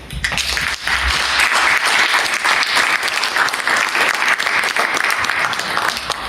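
Sustained audience applause fills the room at an open forum on the Congo crisis once a pastor finishes his speech, dense and loud throughout with no talk over it.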